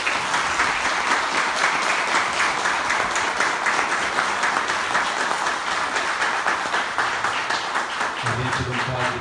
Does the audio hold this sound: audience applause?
yes